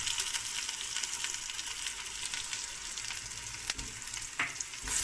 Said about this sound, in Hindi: अब इसमें हम लहसुन अदरक का पेस्ट शामिल करेंगे।